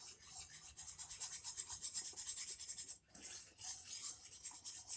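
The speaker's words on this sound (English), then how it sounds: "You definitely got to whisk this one, for sure." A whisk scrapes rhythmically around a pan of thickening homemade white gravy, giving a quiet, brisk, raspy stroking that pauses for a moment before carrying on, close up and without speech.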